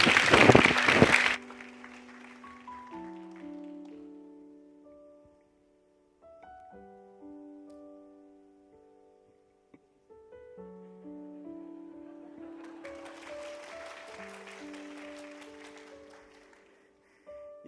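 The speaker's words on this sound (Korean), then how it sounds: "우선 박수로 환영해 주시길 바랍니다." A short burst of applause from a church congregation during a Sunday service ends abruptly, followed by soft, sustained keyboard chords playing slowly.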